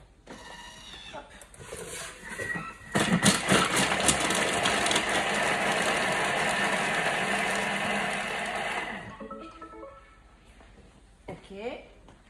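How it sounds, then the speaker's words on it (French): A food processor blitzes a large onion at speed 5 for about five seconds, a loud steady whirring roar that starts abruptly and cuts off, with a person talking briefly before and after. "Et là, on va mixer 5 secondes, vitesse 5."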